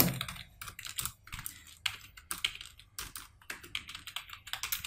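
Someone types a full name on a computer keyboard in quick, irregular bursts of close, crisp key clicks with brief pauses between words.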